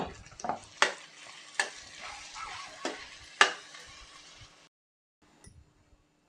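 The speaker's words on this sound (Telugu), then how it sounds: "ఇప్పుడు దీంట్లో అల్లం వెల్లుల్లి పేస్ట్ కొంచెం వేసేసి కలిపేసుకుందాం." Ginger-garlic paste sizzles in a pan over onions that are already fried, while a spoon scrapes and knocks against the pan in sharp, irregular strokes. The frying hiss is steady and close, and it drops away near the end.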